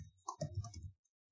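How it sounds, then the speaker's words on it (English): A short, quiet burst of clicking keystrokes as a command is typed on a computer keyboard, several quick taps close together, then silence. "we'll be typing ripmime.md"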